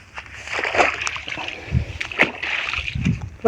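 Rainwater collected in a pool is churned by repeated splashes and sloshing, close by, with several heavier plunges breaking a continuous wet swishing.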